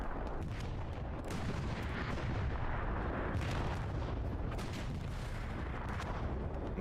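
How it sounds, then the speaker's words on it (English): Machine gun fire in the Hell Let Loose video game, a constant barrage of gunfire and heavy booming shots layered into a thick, unbroken roar of battle noise, loud throughout. "holding it down in this window with the MG"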